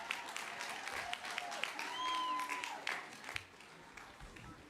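A crowd at a university commencement ceremony applauds and cheers, sustained clapping rising and then tapering off, with a voice briefly audible at a distance.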